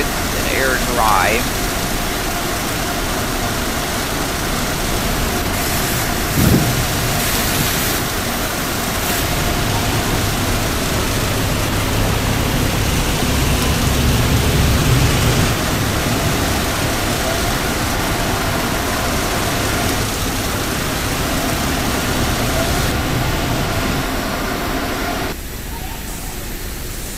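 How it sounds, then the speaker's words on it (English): A car wash in a Roblox video game runs spray rinse and air dryers, giving a loud, steady rushing roar that holds for nearly half a minute, with a voice talking over it. "Now you can see we are getting our Rain-X complete and spot free rigs and air dry."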